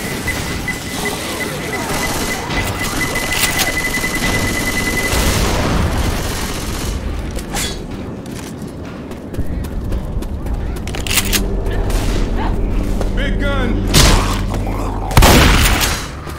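In the video game Left 4 Dead 2, a bomb blast booms amid bursts of gunfire, with sharp repeated shots and heavy low thuds over several seconds, and a player speaking over the action.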